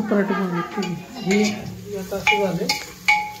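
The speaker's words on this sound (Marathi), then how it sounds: "ह्याच्यामध्ये मी फक्त कांदा आणि तेल आणि लाल मिरची टाकलेली आहे।" Onion and red chilli frying in hot oil in a frying pan for chicken, with a steady sizzle, stirring scrapes and utensil clinks up close, and a tonal background sound over it.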